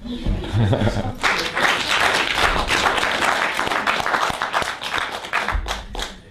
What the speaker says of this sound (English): If you want to clap, it's okay.